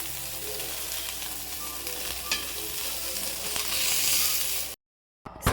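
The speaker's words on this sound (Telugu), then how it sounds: "సో ఇలా మంచిగా ఫ్రై అవుతూ ఉంటాయి." Hara bhara paneer kebabs fry in a pan with a steady, close oil sizzle and occasional stirring scrapes. The sizzle swells near the end, cuts out briefly, then returns with louder clatter.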